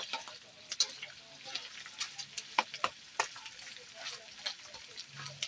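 Tocino, sweet cured pork, frying in a pan, with soft, scattered crackles and sharp little pops over a low sizzle, heard close up and fairly quiet.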